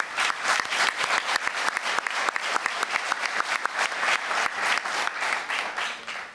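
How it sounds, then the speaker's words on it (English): Delegates at a Greek shipping forum's regulatory leadership round applaud with steady, fairly loud clapping. Many individual claps stand out sharply within the crowd's sound as it continues throughout. "I think we can give them a round of applause for what they are doing"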